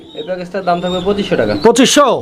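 A pair of pigeons coos in a bird-selling setting, with soft repeated coos under close talking and a brief burst of flapping or rustle near the end.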